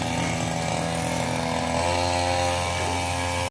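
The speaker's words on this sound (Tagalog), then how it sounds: "si Papa ninyo ang nag-grass cutter" A grass cutter runs continuously at high revs, a loud, close, buzzing engine drone with no break, cutting off sharply at the very end.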